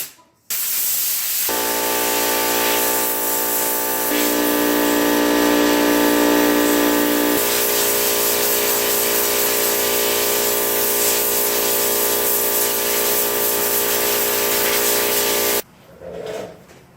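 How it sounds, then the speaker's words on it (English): Air compressor nozzle blasting water off freshly cleaned wheel rims from an EF Civic, a loud, continuous close hiss of air with a tonal hum, running nearly fifteen seconds before cutting off abruptly. "now I'm going to go ahead and use my air compressor to get them dry"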